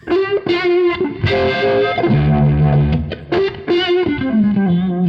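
Distorted electric guitar chords through a vibe pedal with a swirling, whooshing modulation effect, played loud and continuous at full guitar volume with strummed changes throughout.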